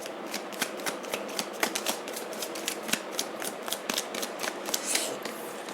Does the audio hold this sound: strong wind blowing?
no